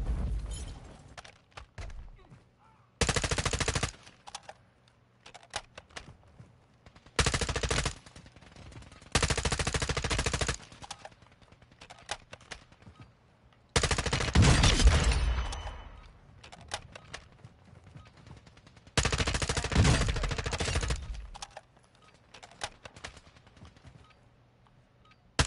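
Bursts of automatic gunfire from a weapon being tried out in a shooter video game, several loud sustained rapid-fire strings separated by short quieter gaps.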